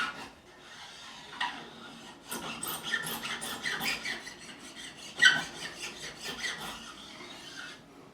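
Guitar frets on a hand-made Strat are filed and bevelled with a rasping metal file, irregular strokes of scraping and rubbing, close and moderately quiet, with no talk.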